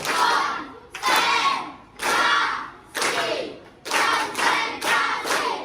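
A classroom of students performs a rhythmic concentration clapping chant, loud bursts of group claps and voices in a steady repeating pattern of about seven beats, close and energetic.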